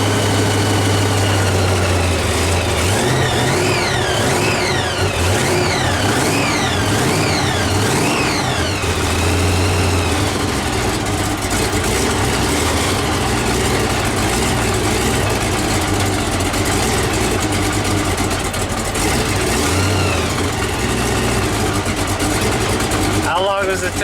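Supercharged 454 V8 engine idling in 20-degree cold weather, a steady low rumble with mechanical whine running throughout, while someone talks over it.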